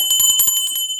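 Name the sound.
pooja bell ringing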